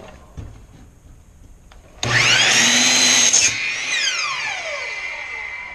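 A miter saw cuts a wood board. After a quiet start, the motor starts abruptly, whines loud and close as the blade goes through the wood for about a second and a half, then winds down with a falling pitch.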